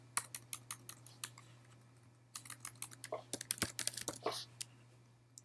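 Fingers typing on a computer keyboard to enter data in a web application, heard as quick, close clicking keystrokes in bursts, then a brief pause and a faster run of keys, with a faint steady hum underneath.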